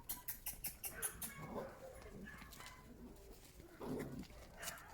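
A tied-up dog howls and whimpers in the distance, faint and intermittent against quiet household background.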